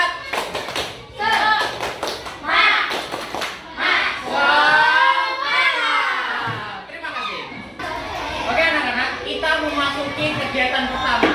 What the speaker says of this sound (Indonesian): Oke, kita lakukan tepuk semangat sekali